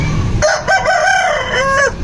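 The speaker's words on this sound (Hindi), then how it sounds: "यहाँ पे हमारी मुर्गियाँ मुर्गे" A rooster crows loudly and close by in one long drawn-out call, with faint clucking and rustling of hens underneath.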